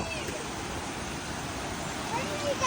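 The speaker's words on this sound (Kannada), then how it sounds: "ನೀರು ಫೋರ್ಸಾಗಿ ಹರಿತಾ ಇದೆ." Water rushing forcefully along a stream on a family trip, a steady broadband roar that stays close and even throughout.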